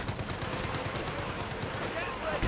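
Rapid machine gun fire rattles steadily in a Company of Heroes 2 battle, dense bursts of evenly spaced shots mixed with other combat noise and constant from start to end.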